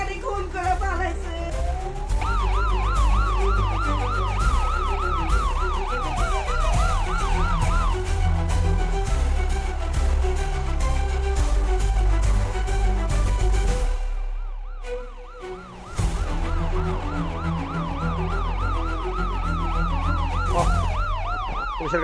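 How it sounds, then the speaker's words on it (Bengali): A police car siren wails loudly and close, its rising and falling sweeps repeating steadily for over twenty seconds with a brief dip near the middle. Road and vehicle noise sit underneath the siren. "পুলিশের গাড়ি চলে আসছে"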